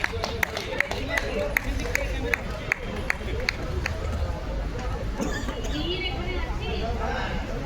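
At a celebration of Louis Braille's birthday and a Braille book launch, an audience claps in a loose, rhythmic series of sharp claps over a background murmur of crowd noise, fading out after a few seconds.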